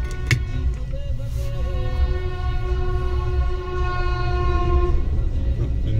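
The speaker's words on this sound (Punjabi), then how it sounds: "ਕੋਈ ਟ੍ਰੇਨ ਆਉਂਦੀ ਹੋਈ।" A train approaches with a steady rumble of wheels on rail, and its horn sounds in a long sustained blast that fades out after a few seconds.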